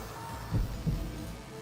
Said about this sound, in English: A remarkably loud heartbeat echoes in my ears.